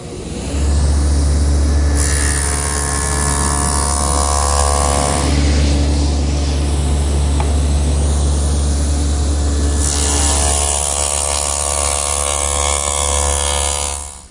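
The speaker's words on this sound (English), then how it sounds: "Now over here at the table saw with my stacked dado head cutter set up, I'm ready to make a tongue on the ends of the blank" A table saw fitted with a stacked dado head cutter runs loud and close, its steady motor whine deepening into a harsher, rougher roar as it cuts a tongue into the end of a wooden blank, then easing back to the free-spinning hum.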